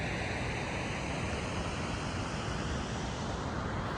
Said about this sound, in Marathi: वाहणारी नदी